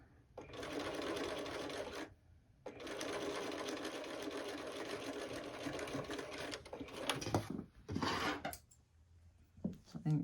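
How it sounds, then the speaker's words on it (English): A sewing machine stitches straight along the edge of a template on a lunch bag, running in two long steady bursts with a short pause between, then a few softer handling clicks and rustles. "So you're just sewing right along the edge of that template."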